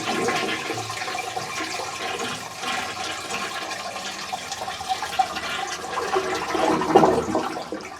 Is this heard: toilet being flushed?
yes